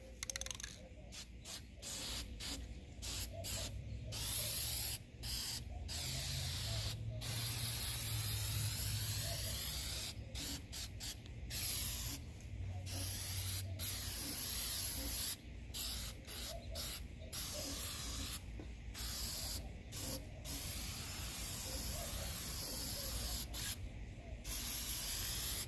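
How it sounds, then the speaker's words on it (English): High-heat paint hisses from an aerosol can onto a rocket stove built from scrap metal, in many short and longer bursts separated by brief pauses, close and fairly loud against a low background hum. "we're gonna go ahead and spray it"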